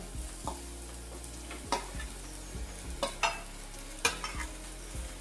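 Fried okra (bhendi) being stirred in a pan of masala, with a steady close sizzle broken by several scraping stir strokes and clinks of the spatula, no voices.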